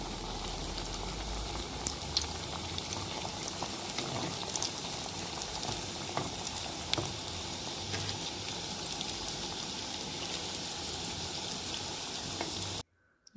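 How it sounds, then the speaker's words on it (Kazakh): Pirozhki fry in hot oil with a dense, steady sizzle and crackle that stays close and even throughout, with no talking, before it cuts to silence at the end. "Осылай қызып тұрған майымызға біртіндеп салып қуырып аламыз."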